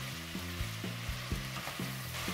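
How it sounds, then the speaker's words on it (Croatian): Soup vegetables including parsley root, celery root, cauliflower and peas sautéing in a pot, with a soft continuous sizzle and regular low thumps and scrapes of stirring at a steady rhythm, fairly quiet and close. "Nastavljamo dinstati uz miješanje 5 minuta."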